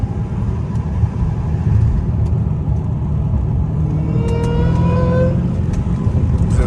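An 800hp Hellcat Redeye engine rumbles loud and close at night, with a rising whine climbing through the run as the car accelerates hard, steady and continuous with no talk.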